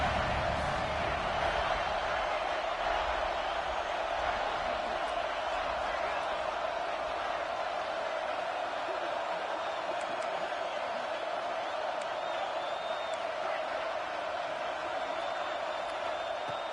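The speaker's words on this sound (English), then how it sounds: "Third down and the crowd really getting into it." Dense, roaring stadium crowd noise from an NCAA college football video game on third down, a loud steady wash of cheering that holds evenly throughout.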